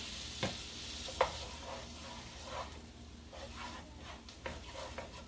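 Diced tomato being stirred into a frying pan, a quiet sizzle under a few distinct spoon scrapes and knocks against the pan, fairly faint and close, with no voices.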